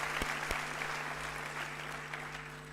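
Graduation ceremony audience giving a warm round of applause, dense continuous clapping across a large hall, heard alone without talk.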